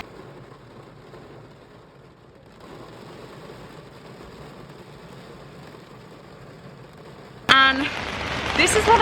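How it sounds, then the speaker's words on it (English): Steady rain patters on the roof and windows of an enclosed car, a soft muffled hiss that suddenly swells much louder and brighter near the end. "I'll insert the rain from my car."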